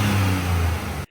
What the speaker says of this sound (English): And it makes that cool whooshing noise,